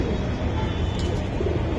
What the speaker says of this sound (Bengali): এই জায়গায় 2 পিস কবুতর আছে